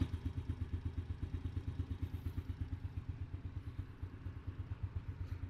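A Honda Dream motorcycle with its original engine and an M2 exhaust idles close by, giving a steady, evenly spaced putter of soft exhaust pulses that runs alone, with no talking.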